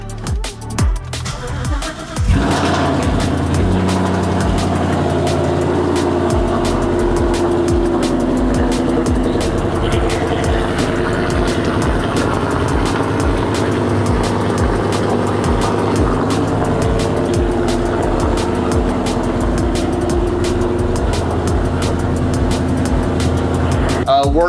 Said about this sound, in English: We're going to pop on the ignition, and time to fire her up.